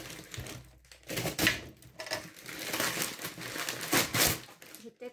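Wrapping paper torn and pulled off a parcel, a steady run of loud crinkling and crumpling with sharp rustling bursts, close up and alone.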